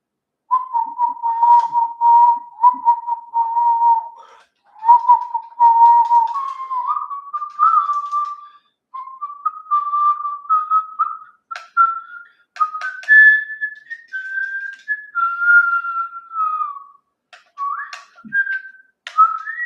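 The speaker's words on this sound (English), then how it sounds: "Is whistling a song that we haven't heard on the show yet a spoiler?" A person whistles a song, a clear melody of short phrases and held notes with brief pauses between them, close and alone for about twenty seconds.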